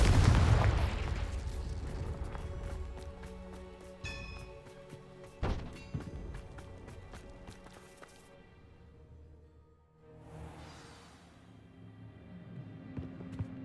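Confringo blasting spell from the Hogwarts Legacy video game, a booming blast followed by a sharp crack and game music tones, then a second muffled whoosh as the sound fades.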